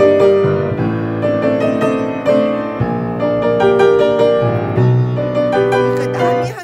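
Piano passage with a dramatic progression and the melody carried by the right hand, played with a strong, powerful touch: dense sustained chords with clear top notes, close and loud, steady for several seconds, no talking.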